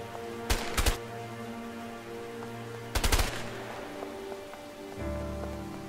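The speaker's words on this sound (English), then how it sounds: "It's raining. Outside our rooftops?" Steady rain patters on rooftops in the video game A Way Out, broken by two loud, sharp bursts of rapid gunfire.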